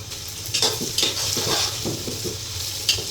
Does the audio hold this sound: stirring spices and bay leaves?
yes